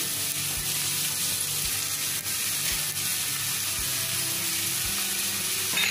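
Fresh chopped spinach, about 250 grams, tipped into a hot pan of egg masala for anda palak bhurji gives a steady, loud sizzle and hiss throughout, with faint clanks and stirring, and no talk.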